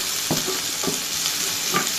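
Chopped onions fry in a pan of hot oil left from frying river fish for a spicy fish curry, giving a steady close sizzle broken by three soft scraping stirs.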